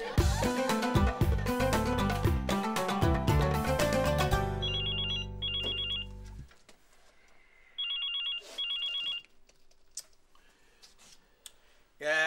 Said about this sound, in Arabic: الموبايل اللي مصدعنا ده